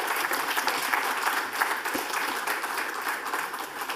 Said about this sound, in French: Je pense qu'ils méritent un applaudissement général.